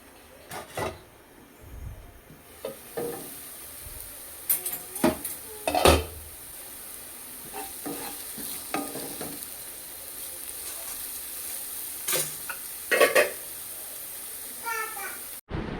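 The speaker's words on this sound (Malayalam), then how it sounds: "അടുത്തായിട്ട് തക്കാളി ഇട്ട് കൊടുക്കാം. നന്നായി മിക്സ് ചെയ്യാം." Tomatoes frying in a pan for Kerala-style mango rice, with a spoon scraping and clinking against the pan over a low sizzle, close and intermittent, and a voice speaking in the background.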